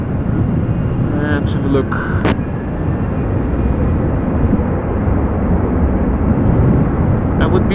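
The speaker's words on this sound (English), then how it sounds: "And it looks like a Queen is ready to take off from runway 24." A Boeing 747 from Atlas Air takes off at Amsterdam Schiphol on a stormy day, a loud, broad, continuous jet roar filling the clip, with brief speech early on.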